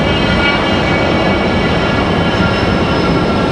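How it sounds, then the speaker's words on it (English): A Southwest Airlines airliner departing Raleigh-Durham International Airport produces a loud, steady broadband jet roar that stays constant and sustained throughout, with no voices present. "That Southwest departing with Southwest 3480."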